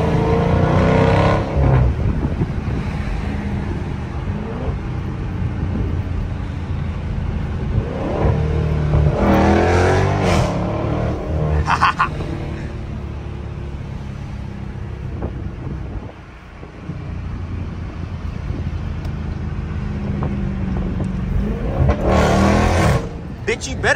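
A 2023 Dodge Charger Scat Pack revs while being driven, its engine rumbling low and steady with several louder bursts of acceleration, heard from inside the car with wind noise and someone talking at times.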